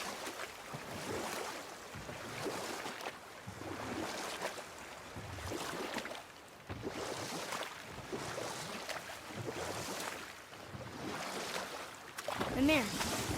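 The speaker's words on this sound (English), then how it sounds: "Keep rowing towards the statues of the oarsmen" Rowing a boat in the video game God of War, with steady rhythmic water swishes and lapping strokes repeating throughout over a constant wash of ambient water, with a few brief chirping game sounds near the end.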